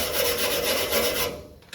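A wire brush scrubs metal on the subrail of a 1928 Ford Model A Special Coupe hot rod during a weld repair. It makes rapid, rhythmic rasping strokes, close and steady, before it stops abruptly.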